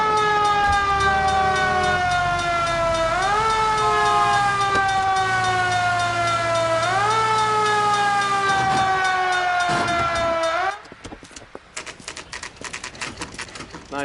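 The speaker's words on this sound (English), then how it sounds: "Put the siren on." A police car siren in the LA Noire video game wails loud and continuous, sweeping up and down in a repeating cycle before cutting off into clattering driving noise.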